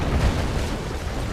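An MCV destroyed in Command & Conquer: Yuri's Revenge, a loud, dense rumbling explosion with a heavy low-end burst that rolls on without a break.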